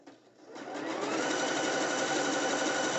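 A sewing machine stitches along the edge of a net bikini, starting up after a brief pause and running on at a steady, rapid whir close by.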